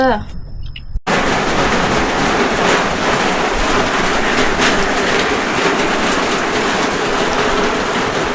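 Steady rain falls in the evening, a dense continuous hiss close by that starts abruptly after a brief quiet opening moment and holds loud and even to the end, with no voices.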